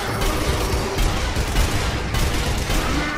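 Sustained gunfire in the zombie shooter Zombie Army 2 pours at a boss enemy as a dense, continuous barrage of rapid shots, loud and unbroken.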